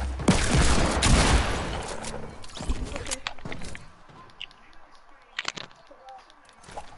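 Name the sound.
shotgun fire in Fortnite video game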